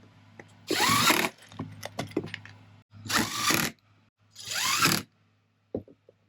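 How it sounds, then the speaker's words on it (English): Power drill driving screws into a tongue-and-groove wood dresser, three loud whirring bursts separated by pauses with small clicks and knocks in between, close up, no talking. "we just got a couple more screws to put in there"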